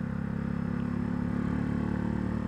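Street traffic hums steadily, with a motorbike exhaust burbling among passing cars in a continuous low rumble at moderate distance. No one talks.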